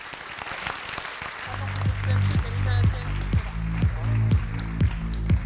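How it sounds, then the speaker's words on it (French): At a master's degree graduation ceremony, audience applause swells after a quieter start and carries steadily to the end, with a low musical tone underneath and sharp claps standing out. "Et on les applaudit fort, s'il vous plaît."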